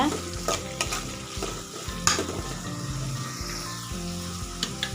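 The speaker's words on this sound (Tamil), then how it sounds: "ஸோ வெங்காயம் சேர்த்துட்டு நல்லா வதக்கி விடுங்க" Onions and curry leaves sauté in a pan for a dried fish curry, a continuous sizzle broken by repeated scraping strokes of a spoon stirring close by.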